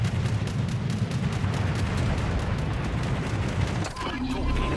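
Naval shells fire in a warship video game, heavy rumbling booms piled densely over continuous engine and sea noise, loud and sustained throughout, with a voice talking over the battle.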